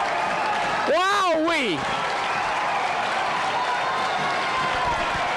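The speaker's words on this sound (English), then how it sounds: "They're getting a standing ovation." Broad crowd applause fills a high school boys basketball gym as the Cambridge Rindge & Latin team comes out to a standing ovation, with a sustained noisy wash throughout and a brief excited exclamation from a voice near the start.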